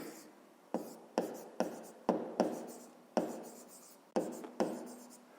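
Handwriting on paper during a fifth-grade maths exercise: a series of about ten short, close scratching strokes with brief gaps in between, quiet and steady.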